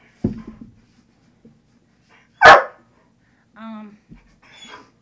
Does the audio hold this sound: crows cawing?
no